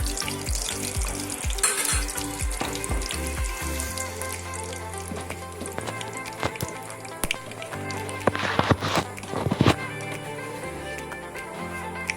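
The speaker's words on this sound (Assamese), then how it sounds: "এয়া তেল গৰম হোৱাত আমি কালজিৰা অকণমান দিছোঁ" Nigella seeds crackle and sizzle in hot oil, starting with rapid popping that settles into a steady fry with occasional sharper spits, close and alone.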